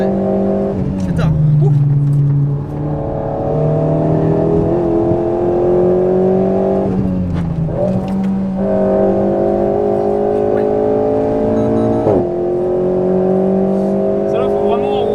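Alpine A110 GT4 road car engine lapping a racing circuit, loud and close from the cabin, rising through the revs with sharp drops at gear changes.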